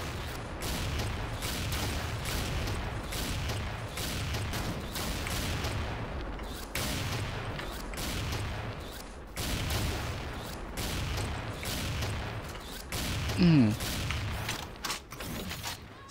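Gunfire in the Thai online shooter XSHOT, with sniper rifles in play: a dense, steady wash of repeated shots and battle noise runs throughout, with a louder burst near the end.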